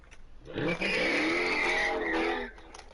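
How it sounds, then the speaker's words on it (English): A car peels out nearby, its tires squealing in a sustained, wavering screech over revving engine noise for about two seconds before fading. "some stupid ass person that's trying to peel out, but he doesn't have the balls to"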